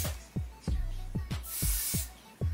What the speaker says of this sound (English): we're just gonna take the spray